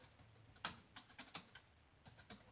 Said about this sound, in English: I'm using, as you see, a full-scale keyboard.